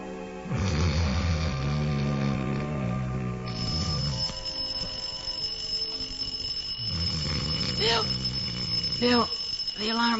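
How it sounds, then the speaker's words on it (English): An alarm clock rings in an old-time radio comedy, a long metallic jangle amid snoring sounds and voices, fairly loud and close. "Turn off the alarm."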